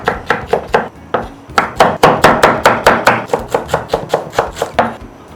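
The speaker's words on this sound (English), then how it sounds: "I'll start cutting the vegetables for the rice." Rapid, steady knife chops on a cutting board, about twenty crisp strikes in quick rhythm with brief pauses, close and loud.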